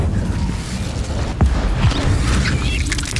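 A fire spell cast in a wizarding action game erupts as a loud whooshing boom with a roaring, crackling burn that sustains over a rumbling low background, a sharp burst near the middle.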